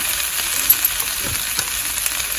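Flat beans curry frying in a pan, an even, fairly loud sizzle with a few faint stirring scrapes and no one speaking.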